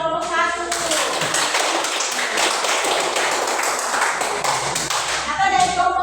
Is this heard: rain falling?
no